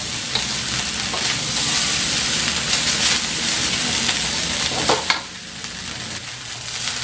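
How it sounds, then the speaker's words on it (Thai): Rice is stir-fried in a hot wok, a loud, steady sizzle with continuous scraping and tossing that eases off briefly near the end. "แล้วก็มาเร่งไฟขึ้นนิดนึงครับ แล้วผัดรสชาติให้เข้ากับเนื้อข้าวนะครับ"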